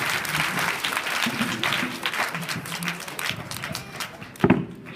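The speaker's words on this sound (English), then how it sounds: "let's give them all a round of applause" Audience at a school event for challenged kids claps for the children and teachers after a stage performance, a full crowd of hands clapping steadily, with a louder burst near the end.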